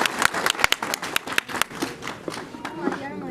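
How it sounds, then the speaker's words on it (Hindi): Crowd at a BJP ward election rally in India claps and cheers in loud, uneven bursts, with sharp individual claps standing out early, mixed with voices and a speaker on a microphone. "जोरदार तालियां"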